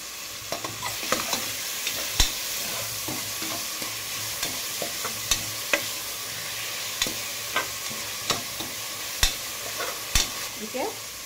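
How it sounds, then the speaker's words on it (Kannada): Tomato frying with a pinch of salt in a pan, a steady loud sizzle with frequent sharp clicks of a spoon stirring and scraping, close up throughout. "ಇವಾಗ ಟೊಮೊಟೊ ಸ್ವಲ್ಪ ಬೇಗ ಫ್ರೈ ಆಗಲಿ ಅಂತ ಸ್ವಲ್ಪ ಉಪ್ಪು ಹಾಕ್ತಾಯಿದ್ದೀನಿ."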